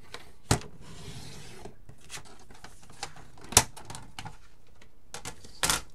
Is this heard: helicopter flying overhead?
no